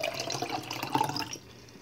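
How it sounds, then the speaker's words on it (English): Tap water runs into a cup in a home kitchen, a bubbling, splashing gush lasting just over a second before it cuts off and leaves near silence. "You're gonna fill it with water."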